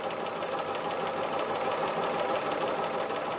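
Sewing machine running steadily while top stitching a dress sleeve, a continuous close, even mechanical whir with no pauses and no talk.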